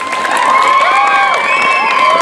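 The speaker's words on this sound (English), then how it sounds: "If you can clap for the new parents and swimmers who joined" A crowd at a swim team's end-of-year party claps and cheers for new parents and swimmers, a loud, sustained wash of applause mixed with shouts and high whoops.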